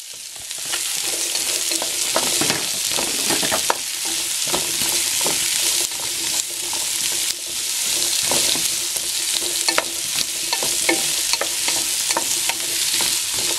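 Mushrooms and carrots being stir-fried for chopsuey give a loud, continuous sizzle close at hand, with repeated scraping and clattering of a utensil against the pan and no voices.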